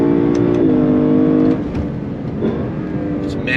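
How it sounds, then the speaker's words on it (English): A 2022 Lexus LC 500 convertible's engine revs hard toward redline, its pitch climbing as a loud, close roar, then easing off into a lower, rumbling drone with road and wind noise. "All the way to red line. Hit the red line."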